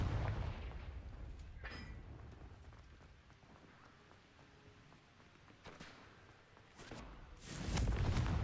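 Fiery Confringo spell blasts from the wizarding game Hogwarts Legacy, a few sharp bursts with crackling decay around a quieter stretch, ending in a louder, sustained fiery whoosh.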